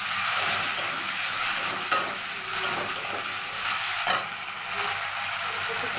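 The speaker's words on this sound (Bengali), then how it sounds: "নাড়াচাড়া করে নিলাম চিংড়ি আর আদাটা দিয়ে।" Prawns and ginger stir-frying in a pan, a steady loud sizzle running throughout with a few sharp scrapes and clinks of the spatula against the metal.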